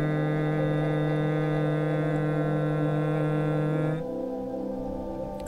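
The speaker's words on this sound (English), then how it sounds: "That's humming." A person humming a steady, sustained tone as a vagus nerve exercise, one long even note held for about four seconds before dropping to a quieter, softer hum, close and alone with no talk.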